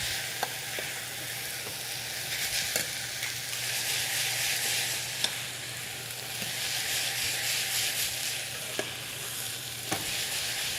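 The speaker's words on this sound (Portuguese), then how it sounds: "eu vou entrar com o meu alho e vou fazer o mesmo processo nele. Vou deixar que ele refogue" Garlic sautés in a pan after the onion, a steady close sizzle with occasional scrape and stir clicks running throughout, no talking.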